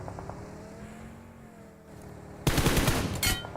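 In a PUBG Mobile match at the 2023 Grand Finals, a sudden loud burst of close automatic gunfire breaks out after quieter engine-like rumble and runs as a quick rattling volley to the end.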